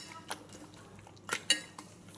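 Utensils clink and scrape against a dish while food is mixed with tomato juice, a few sharp close metallic taps and scrapes spaced irregularly, with no speech.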